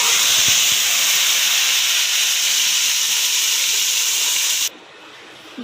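A hot cumin tempering (baghar) hits a pot of Pakistani pakora kadhi with a loud, steady sizzling hiss that holds for several seconds, then cuts off abruptly near the end.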